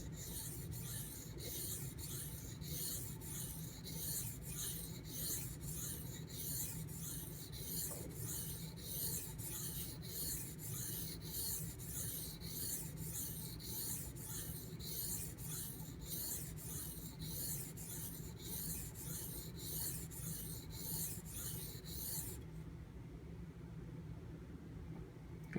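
A knife is drawn back and forth over a 1K silicon carbide benchstone in quick, regular rasping strokes that stop near the end. The strokes are faint and close.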